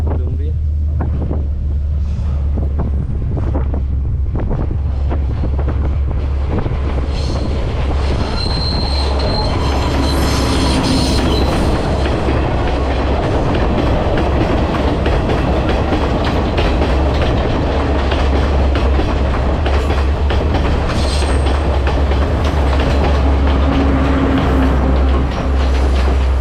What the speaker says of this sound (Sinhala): අර එන්නේ දුම්රිය.